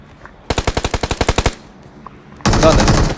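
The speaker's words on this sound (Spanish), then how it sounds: "¿Pero usted escuchan disparo o qué fue?" Video game PUBG Mobile: a rapid burst of about a dozen machine gun shots, sharp and evenly spaced, followed after a short pause by a denser, louder burst of automatic fire.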